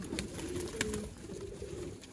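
Pigeons in a loft coo continuously, their low, layered calls overlapping at moderate volume, broken by scattered sharp taps and wing rustles.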